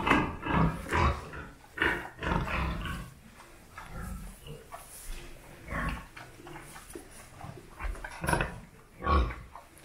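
Pigs on a sow and piglet farm in Lukino give a series of loud, close grunts and squeals in irregular bursts, with quieter pen noise between them and no talking.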